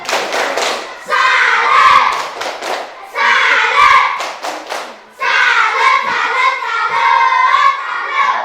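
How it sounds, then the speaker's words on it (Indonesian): A classroom of children claps the "tepuk salut" cheer, three rhythmic bursts of patterned hand claps with short pauses between, loud and close, with some children's voices mixed in. "Oke, beri tepuk salut dulu. Tepuk salut."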